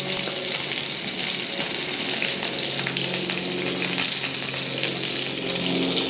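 Japanese A5 Wagyu beef fries in a very hot pan with little oil, giving a loud, steady, close-up sizzle that never lets up.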